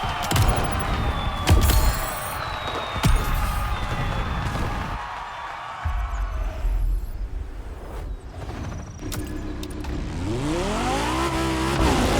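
Engines rev and roar in a modern Japanese street race in The Crew Motorfest, with rising and falling revs, gear shifts and brief tire squeals. The sound is loud and close and shifts between passes.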